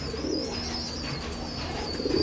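Green pigeons, a Beldanga Murshidabad breed with feathered feet, coo softly and steadily close by over a low, continuous background hum.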